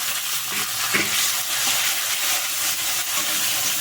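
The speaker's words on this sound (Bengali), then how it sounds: "এবার টমেটোটাকে আমি ভেজে নেবো ভালো করে" Tomato and chopped onion fry in a pan, a steady loud broadband sizzle with light stirring scrapes running continuously, no voices over it.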